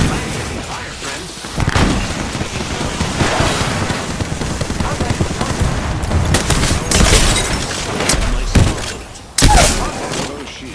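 Gunfire in a video game: loud bursts of automatic fire and blasts come through continuously, with sharp louder shots breaking out near the end.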